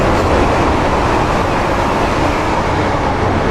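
An HST train running in the Train Sim World game, a dense, loud, steady roar of engine and rail noise that fills the whole moment without pause.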